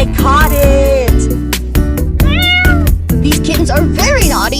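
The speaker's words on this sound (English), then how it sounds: "These kittens are very naughty." Several kittens meow repeatedly in high, wavering cries, close and loud, overlapping with people talking in a cartoon setting.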